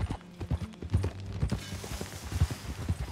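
Horse hooves clip-clop at a steady walking pace on a ranch in the epilogue of Red Dead Redemption 2, close and fairly quiet, with light background ambience.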